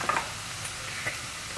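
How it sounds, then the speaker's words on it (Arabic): Onions fry in olive oil in a pan, a faint, soft sizzle with a couple of light stirring scrapes near the start and end, and no talking. "درت ديك البصيله اللي شلطت مع شويه ديال الزويته مليحه وبزيره وثومه"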